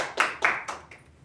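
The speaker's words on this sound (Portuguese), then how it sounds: "Salva de palmas para ele." Hands clap in a slow, sparse burst of about four distinct claps at a training session, each fairly close and fading toward the end.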